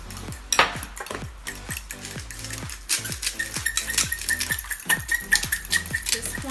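Seasoned fish mixture with salt, pepper and Chipotle Parmesan seasoning is mixed in a bowl, giving a steady run of close, rhythmic clinks and scrapes without talk.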